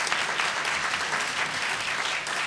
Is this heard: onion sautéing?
no